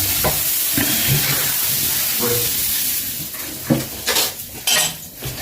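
Dosa batter cooks on a griddle stone in a home kitchen, with a steady soft sizzle and frying hiss beneath repeated clinks and scrapes of metal utensils against pans, all close by.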